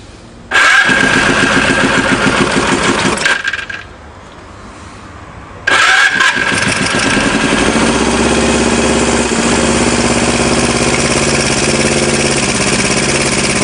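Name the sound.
engine starting and revving at full throttle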